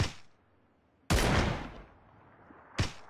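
Gunshots in PUBG: a sharp, loud blast that rings out and decays over about a second and a half, then a second crack near the end, with an earlier shot's tail fading at the start.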